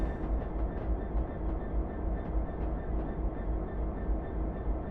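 A Class 66 DRS diesel locomotive in Train Simulator 2015 makes a continuous low engine rumble, with light rhythmic clicks of wheels over rail joints on top and no speech.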